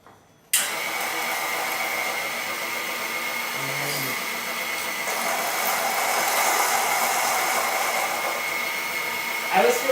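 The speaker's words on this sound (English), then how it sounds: "there was actually a bean in here, so let me grind that through." An electric coffee grinder whirs loudly and steadily as it grinds roasted coffee beans, starting abruptly and holding a constant high-pitched motor drone close by, with a brief lower rattle partway through.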